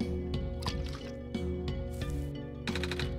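Medicated water is poured onto a seed in the OneShot video game, giving soft drips and small liquid squishes over a steady, droning music bed that continues throughout.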